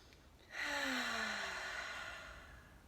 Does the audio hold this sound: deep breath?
yes